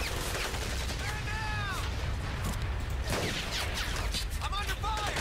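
Gunfire in Medal of Honor: Pacific Assault, a dense stream of shots and blasts under ongoing battle noise, with voices shouting and talking over it.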